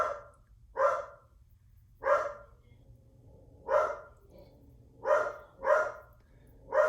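A dog barks in a steady run of about seven separate woofs spaced roughly a second apart, fairly close, over a low constant hum, on a Sunday morning next door to a church.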